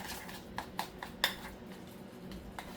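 A utensil scrapes and clinks against a pan while roasted vegetables and garlic are stirred, giving a few quiet, irregular taps and knocks with one sharper clack, set against a soft background.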